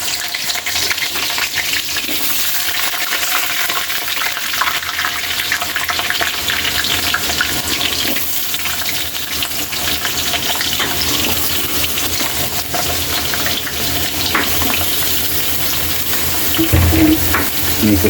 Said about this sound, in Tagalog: mainit na yung mantika natin. Ilalagay na natin yung pinag-iwan ni Boy Mukbang, carrots at patatas